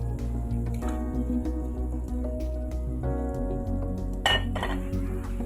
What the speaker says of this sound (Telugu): ఇప్పుడు దీంట్లో మనం ఆల్రెడీ ఫ్రై చేసుకున్న పన్నీర్ ముక్కల్ని వేసేసుకుందాం.